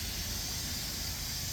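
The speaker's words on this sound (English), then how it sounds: "get all the crap out of the bottom of the boiler. Blows out of there." A 20-inch steam boiler blows down from the bottom, giving a loud, steady, unbroken hiss of escaping steam throughout.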